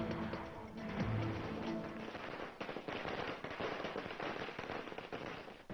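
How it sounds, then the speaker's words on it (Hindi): Firecrackers bursting in the streets of Bihar during an election result celebration, a rapid crackling string of pops and snaps at moderate distance, with a louder bang near the start and continuous crackle afterward. "दिवाली से पहले ही बिहार की सड़कों पर पटाखे फूट रहे हैं।"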